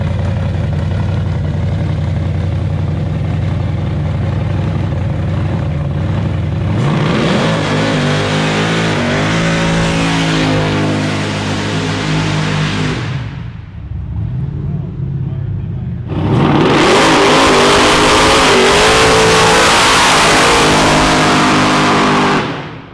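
A 10.3-litre supercharged big-block Camaro revs hard and close, its blower whine and loud exhaust roar surging through repeated blips, dropping briefly to a rumbling idle before climbing again.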